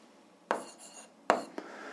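Pen strokes on paper while working an algebra exercise, with two short scratchy bursts and a small tap, quiet and close.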